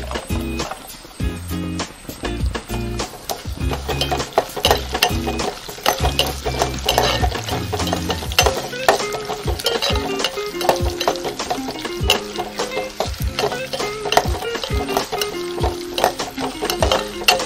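Garlic and ginger sauté in a pan for a lime pickle, the spoon scraping and stirring in busy repeated strokes over a steady sizzle, loud and close.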